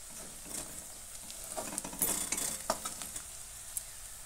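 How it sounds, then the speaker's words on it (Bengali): Onions with a pinch of turmeric powder fry in oil for a Bengali chicken curry, giving a soft, steady sizzle with scattered stirring scrapes and light clinks of a utensil against the pan, fairly quiet throughout. "দিয়ে দিচ্ছি সামান্য হলুদ গুঁড়ো, দিয়ে আবারও 2 মিনিট এটাকে ভেজে নেব"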